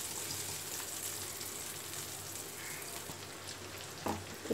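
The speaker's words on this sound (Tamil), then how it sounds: "இப்போ வந்து எல்லா முட்டையும் போட்டாச்சு. இது நல்லா ஃப்ரை ஆகட்டும். சிம்மில் வச்சு ஃப்ரை பண்ணுங்கள்" Masala eggs frying on low heat in a pan, a steady soft sizzle with fine crackling spread evenly throughout, fairly quiet, with a couple of small clicks near the end.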